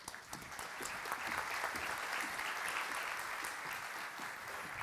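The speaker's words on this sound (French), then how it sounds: "Un grand applaudissement, s'il vous plaît." Sustained applause from an audience at a Synology 2020 corporate presentation in Paris, a steady, dense wash of clapping that holds at an even level for several seconds without talk.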